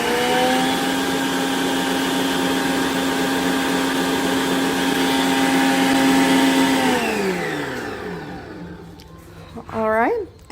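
A Whall 12-speed electric stand mixer whirs at top speed 12 with a steady high motor hum, then winds down in a falling pitch as it is switched off, close and loud.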